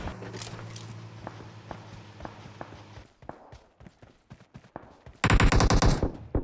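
Gunfire in the battle royale video game PUBG, a rapid string of close automatic shots, then scattered footsteps and single cracks, ending in a sudden loud dense burst of fire.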